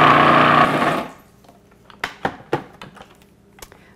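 Cracker dough mixed with dribbled-in water: a loud mechanical whirring for about a second, then stopping, followed by scattered sharp knocks and taps.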